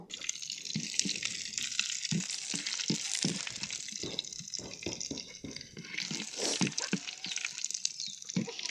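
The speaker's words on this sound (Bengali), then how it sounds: "এই তো বাগারটা আমি সুন্দর করে বেজে নিচ্ছি" Tempering spices sizzle and crackle in hot oil in a pan for a bottle gourd curry, a dense continuous frying hiss with brief pops and stirring scrapes throughout.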